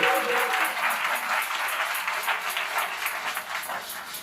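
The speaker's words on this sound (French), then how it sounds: "Acclame fortement Dieu." A church congregation at a prayer service bursts into loud sustained applause and cheering, with dense clapping and crowd voices throughout.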